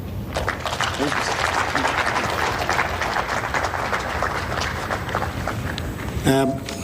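A crowd at a dialogue event applauds the chairman with continuous, dense clapping at steady volume, and a voice breaks in briefly near the end.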